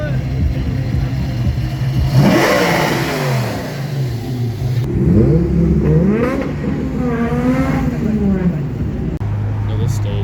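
A car's engine revs hard at a car meet, rising and falling in pitch through several throttle blips with a crowd's chatter and voices throughout.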